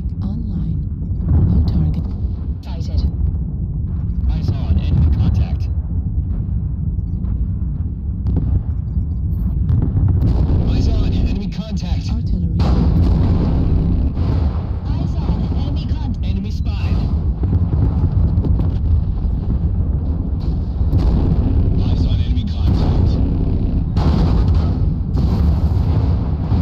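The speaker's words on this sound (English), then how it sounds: "Artillery strike online." Artillery strike explosions in MechWarrior Online boom over a dense, continuous roar of battle noise, with heavy rumbling bursts that stay loud and close throughout.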